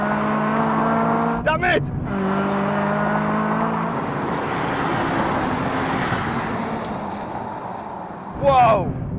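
Honda Civic Type R FK8 and FK2 drag racing, with a loud, continuous engine roar from inside the car, brief whooshing bursts, and someone shouting a short exclamation.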